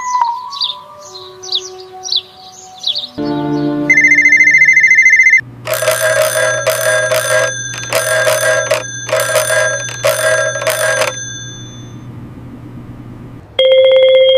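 A telephone rings during a tense confrontation between army and police, with a series of loud electronic ringing bursts separated by short gaps after some bird-like chirps and a steady tone.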